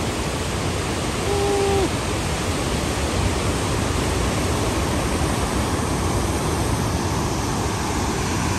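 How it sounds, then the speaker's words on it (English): Niagara Falls pouring in a steady, dense roar of falling water heard from a nearby bridge, a constant loud wash with no breaks or talk. "The way the water is falling this way."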